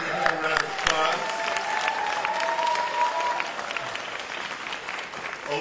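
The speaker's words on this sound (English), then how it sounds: "Give him a round of applause." A crowd at a presidential event on gun background checks applauds steadily, dense clapping at a fairly loud level with a few cheers and voices rising through it.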